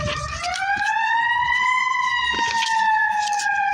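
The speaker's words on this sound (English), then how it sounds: "Oh, it's a fire truck." Fire truck siren wailing loud and steady as it passes nearby, a rising and falling tone over street traffic noise.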